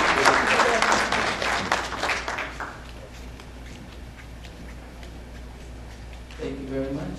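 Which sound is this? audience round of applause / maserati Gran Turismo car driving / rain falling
audience round of applause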